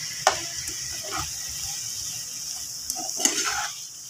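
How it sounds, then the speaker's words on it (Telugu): Brinjal curry with a spoonful of coconut paste is stirred in a pan, giving a few soft scrapes over a faint, steady sizzle, close by with no talking. "బాగా మిక్స్ చేసుకున్నాను దాన్ని."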